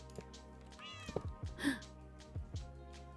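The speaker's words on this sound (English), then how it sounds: "These cats are gonna be a problem probably too" Several cats meow repeatedly in the Minecraft video game, a series of short, fairly close mews of varying pitch over a faint background hum.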